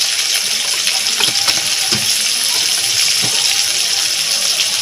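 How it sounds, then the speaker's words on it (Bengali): Bitter gourd frying in hot oil for a Bengali moong dal, a steady broadband sizzle with a few crackling pops, loud and continuous throughout without speech. "তেল গরম হয়ে গেছে, তেলের মধ্যে দিয়ে দেবো উচ্ছেগুলো"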